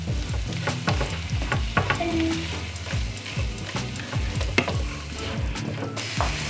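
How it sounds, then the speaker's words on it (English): Ingredients stirred together in a cooking pan, with a continuous sizzle and a steady run of scraping, clicking utensil strokes against the pan, close and loud, with no talk. "Give everything a good stir together"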